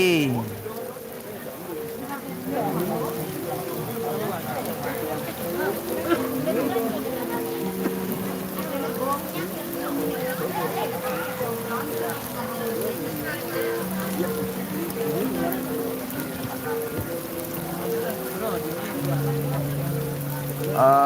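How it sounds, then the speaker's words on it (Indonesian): Heavy rain pours steadily at a Calonarang ceremony at Pura Penataran Sasih in Pejeng, a dense hiss of drops on surfaces running throughout, mixed with distant tonal music and voices in the background. "hujannya deras nih Ki, deras, lumayan deras"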